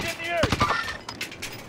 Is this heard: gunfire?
yes